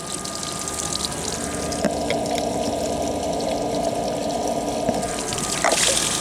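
Water pours steadily from an aquarium overflow box and splashes onto a concrete driveway, a continuous close rushing gush with no talk over it.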